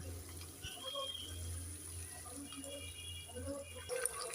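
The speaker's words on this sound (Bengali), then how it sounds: "এবার আমি দিয়ে দেব গরম জল" Hot water poured into a pan of Bengali fish curry (macher jhal) with yogurt, a faint splashing trickle under kitchen background noise.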